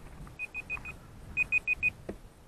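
A timer on an F-35 style beginner RC park jet beeps in two quick runs of four short, high tones, close and clear, followed by a small click.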